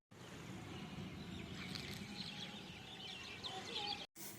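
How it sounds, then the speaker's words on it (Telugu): Birds calling faintly from around a house rooftop in the evening, with scattered clucks and chirps over a soft, steady outdoor background. "ఎంత ప్రశాంతంగా అనిపించింది ఆ బర్డ్స్ సౌండ్స్ అవన్నీ వింటుంటే."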